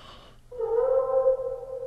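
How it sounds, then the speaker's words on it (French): A cat in the horror video game The Last Door gives a single drawn-out meow, loud and close, rising then sustained, following a brief faint sound. "Le miaulement du chat est plus fort ici."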